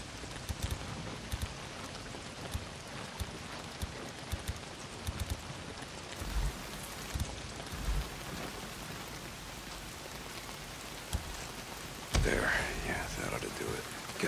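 Heavy rain falls steadily in the Days Gone video game world, a constant dense hiss with scattered drop impacts and occasional louder bursts, with faint whispery voices in the background.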